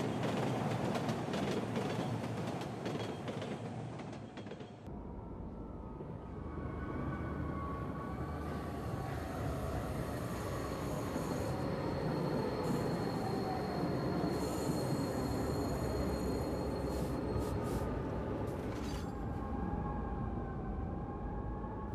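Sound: train rolling on tracks, video game

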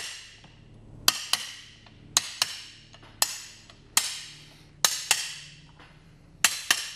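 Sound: hammer striking an aluminum drift to knock out turbine blades

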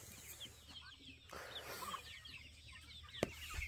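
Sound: free-ranging chickens clucking

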